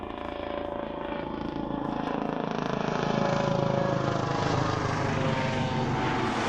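A Coast Guard aircraft flies low over an Oregon beach, its propeller engine droning loud and close and swelling steadily as it passes, with no talk.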